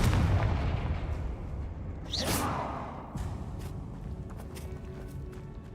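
Confringo blasting spell from the video game Hogwarts Legacy: a rising whoosh swells into a loud burst around the middle, then rumbles away beneath continuous game ambience and low booms.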